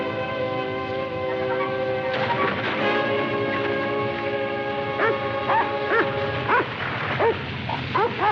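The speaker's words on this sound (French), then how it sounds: "Le chien. N'approche pas." A dog in an animated series gives a run of short, sharp yips and barks, growing more frequent toward the end, over a steady musical background with no talking.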